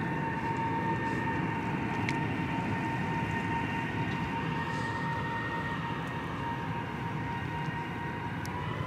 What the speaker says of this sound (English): Ooh, Emirates pulling up.